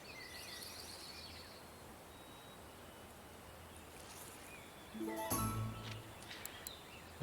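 Bird chirps in the outdoor fishing game Russian Fishing 4, faint high tweets scattered through a quiet ambient bed, with a louder burst of activity near the end.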